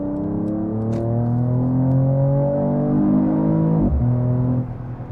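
A Mercedes-AMG E53 Cabriolet six-cylinder accelerating hard, its engine note climbing in a steady rising whine, dropping briefly at a gear change and then climbing again, loud and close from inside the car with no talking.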